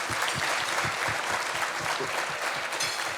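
Audience applause for Rabbi Schiff at a gathering of South Florida Muslim organizations, a steady wash of many hands clapping throughout, dense and even with no voices on top.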